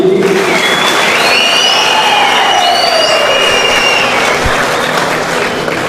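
An audience in a Turkish gathering hall breaks into sustained, dense applause with some cheering, loud and continuous throughout, tapering slightly at the end.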